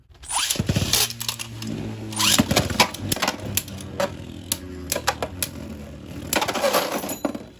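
Beyblade Burst spinning tops, including Zest Achilles and Helios, clash in a plastic stadium with sharp metallic clinks, rattles and clattering hits, irregular and close throughout.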